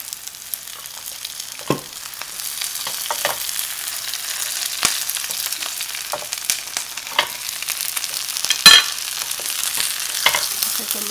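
Oil sizzles and crackles steadily as a Vietnamese bánh xèo crepe fries in a pan, with sharp spatters popping out over a continuous hiss and no voices.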